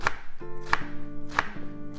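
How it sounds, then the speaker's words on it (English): A knife chops shallots on a chopping board, giving three sharp, evenly spaced knocks close up over a quiet background hum. "And that's your shallots chopped up."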